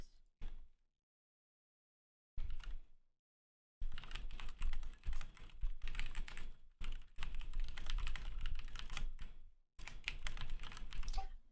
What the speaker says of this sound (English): I will type to you what you feel in response.